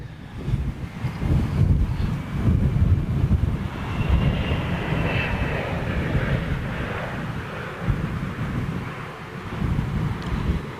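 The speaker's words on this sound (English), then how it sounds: "So this looks like a little ATR 72, perhaps." An ATR 72 turboprop airliner passing overhead near an airport, heard as a broad steady roar that swells and slowly fades, with a faint whine and wind buffeting on the microphone.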